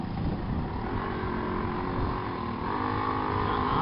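A mini bike's small engine runs steadily while being ridden, a droning motor buzz at moderate distance with a slight rise in pitch near the end and no talking.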